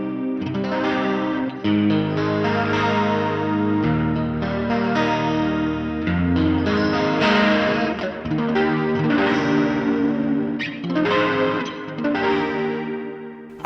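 Electric guitar runs through a Scattered Abroad Guitar Works Hungry Panda pedal, giving a loud, thick chorus-like modulated tone with some grit as chords and riffs ring out alone for several seconds.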